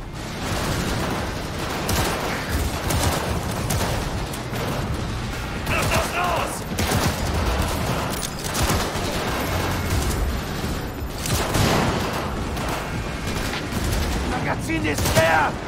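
Sustained gunfire during a combat firefight in Cyberpunk 2077, with dense overlapping shots and explosive bursts running continuously at steady loudness, mixed with game effects and a voice talking over parts of it.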